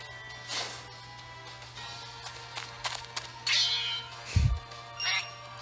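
A cat meowing in the video game Dragalia Lost: a few short, close meows with a louder cry near the end, over a low steady hum.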